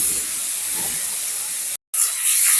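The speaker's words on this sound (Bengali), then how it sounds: "এবার কেটে রাখা পেঁয়াজ আর রসুনগুলো তেলের মধ্যে দিয়ে দেব, আর দিয়ে দেব কেটে রাখা টমেটো।" Chopped onion, garlic and tomato fry in hot oil for doi pabda, making a loud, steady, close hiss with one brief cut to silence partway through.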